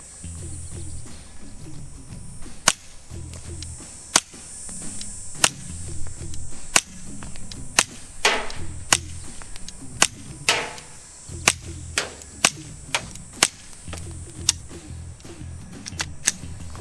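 Suppressed .22 LR pistol shots through an AAC Element 2 silencer, a series of about a dozen sharp, quiet cracks at uneven intervals with soft mechanical clicks and low background noise between them.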